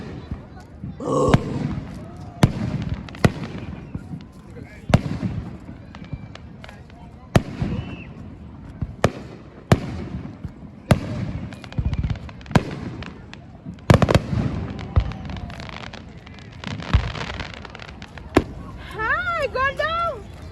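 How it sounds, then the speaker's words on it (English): Fourth of July fireworks burst repeatedly at an outdoor show, sharp booms and crackling pops at irregular intervals, mixed with people talking and cheering nearby and a brief whistle near the end. "Oh, we gotta get some of the fireworks."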